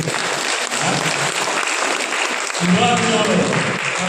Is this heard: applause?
yes